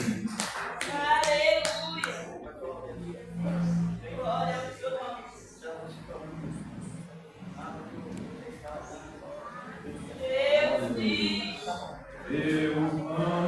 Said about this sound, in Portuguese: as palmas do Senhor, nós sempre agradecemos, Salvador Jesus Cristo.